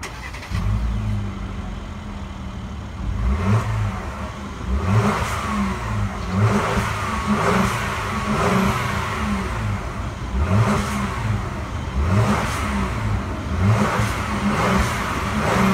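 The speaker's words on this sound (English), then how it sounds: "To start the engine, push your foot down the brake and press the start button located right here." A 2016 Mercedes-Benz GL450 4Matic engine starts and then revs repeatedly, each loud rising surge falling back to a steady idle over about fifteen seconds, heard close with no talking.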